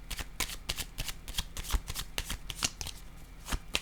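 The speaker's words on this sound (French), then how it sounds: "Je vais déposer une carte ici." Playing cards handled and laid down during a card game, a continuous soft riffling and flicking with quick papery snaps, close and fairly quiet, with no voices.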